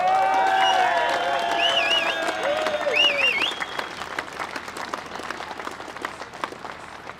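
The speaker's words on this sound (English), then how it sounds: "So give those some real applause as well." Crowd applause at a farmers' protest in London, sustained clapping with a few whistles and cheers over the first few seconds, then thinning to scattered claps amid open-air crowd noise.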